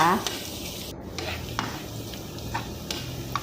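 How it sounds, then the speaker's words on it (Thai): Garlic sizzles softly in hot oil with a steady crackle, broken by occasional scraping clinks of a spatula against the pan. "พอน้ำมันร้อนแล้วก็ใส่กระเทียมลงไปเจียวให้เหลืองหอมนะคะ"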